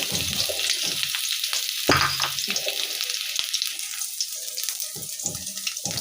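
Green chillies, onion and chopped garlic fry in a pan with a close, hissing sizzle and occasional stirring scrapes and knocks, at an even, moderate level with no talking.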